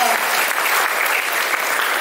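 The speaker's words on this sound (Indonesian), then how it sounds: "Tepuk tangan sekali lagi untuk kita." Loud, dense applause from an audience at a youth political school event in Tegal fills the whole stretch evenly, with some voices mixed in underneath.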